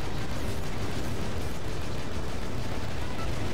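Explosions and gunfire pound without pause in the Battalion Wars 2 video game, a dense, loud wall of booms and crackling shots filling the whole stretch.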